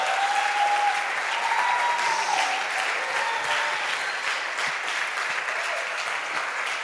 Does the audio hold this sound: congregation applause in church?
yes